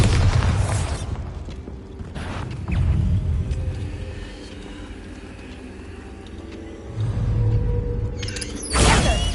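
Bombarda and Confringo spells explode in Hogwarts Legacy, with several heavy booming blasts spaced a few seconds apart and rumbling mechanical game sounds filling the gaps between them.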